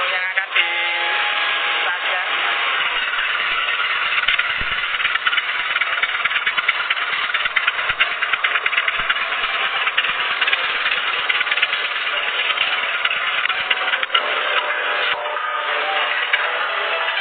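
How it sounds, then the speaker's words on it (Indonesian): Electric-motor cassava chip slicing machine running steadily, a continuous dense mechanical whir with faint rattling, loud and close, with no pauses for about seventeen seconds. "langkah-langkah pengoperasian mesin perajang keripik singkong"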